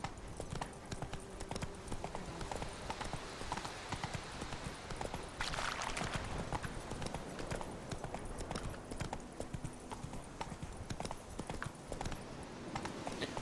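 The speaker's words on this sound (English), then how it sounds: "Whoa there, Roach." Horse hooves clip-clop steadily at a walk in the Witcher 3 video game, close and rhythmic, with a brief swell of rustling midway and no talk over it.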